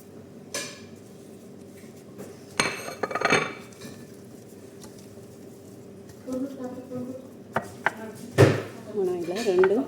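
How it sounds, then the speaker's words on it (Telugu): A knife chops cucumber into slices on a cutting board for a salad in a home kitchen, the sharp taps coming in short clusters near the mic while someone talks over much of it. "ఇలాగా స్లైసెస్ కట్ చేసుకోవాలి."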